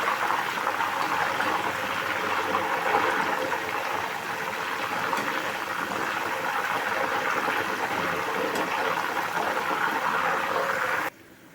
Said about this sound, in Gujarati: ચિપ્સને આપણે ધીમા તાપે તળવાની છે